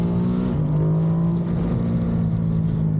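A Ducati Monster 937 motorcycle pulls hard on the throttle out of a turn, its engine holding a steady, loud, close drone with strong low harmonics and no talk.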